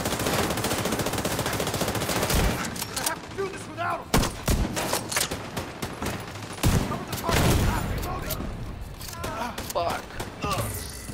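Rapid gunfire in the shooter game The Division 2, loud repeated bursts and single shots cracking in irregular clusters over a dense game soundscape, with a player talking at times.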